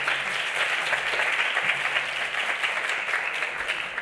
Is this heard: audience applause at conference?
yes